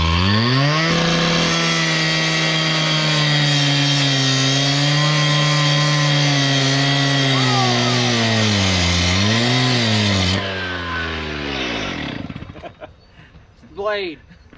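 Gas-powered cutter saw slicing through rebar on a farmhouse footer build: a loud, steady engine whine whose pitch dips and rises for about ten seconds, then cuts off and winds down, followed by a brief faint noise.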